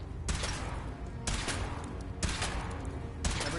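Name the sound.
weapon firing in Fallout video game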